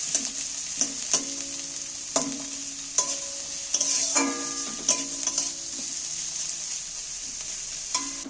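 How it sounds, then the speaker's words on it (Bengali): Onions stirred in a pan over a low gas flame, a soft continuous sizzle broken by sharp, regularly spaced scrapes and clinks of the spatula against the pan, close by with no voices. "এইবার আমি আস্তে করে গ্যাসের ফ্লেম কমিয়ে দিয়ে এইটাকে এবার নাড়তে থাকবো।"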